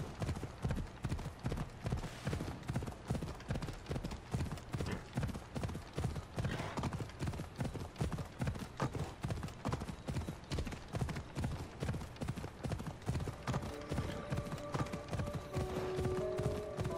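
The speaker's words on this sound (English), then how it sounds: "Let's go, Dark Horse. Giddy up!" Horse hooves clip-clop at a steady galloping rhythm in Assassin's Creed Odyssey, loud and close throughout, with game music tones rising near the end.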